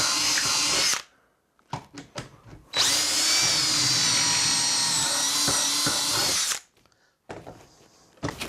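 A power drill driving screws into wood whirs in short bursts, then runs for a long steady stretch before stopping, with brief starts and clicks around it.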